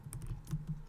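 Quick keystrokes on a computer keyboard as a command is typed into a prompt, a short close burst of several clicks with no voice.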